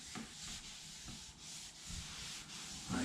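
A small rag rubbing oil into a wooden pizza peel, soft, close swishing strokes repeating at a steady pace, quiet with no voices.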